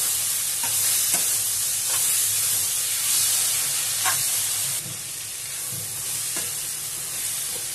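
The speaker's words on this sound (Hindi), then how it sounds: "ये देखिए अब मैं इसमें डाल दूंगी चाउमीन और इसको अच्छे से मैश करते हैं" Chow mein stirred and mashed in a hot pan at home, with a steady close sizzle of frying under repeated scraping and tapping strokes of a spatula for the whole stretch.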